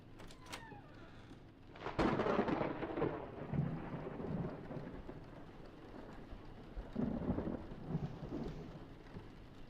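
Thunder rumbles over a steady wash of rain in a horror game scene, the roll of thunder building and lingering under continuous downpour, with no voices.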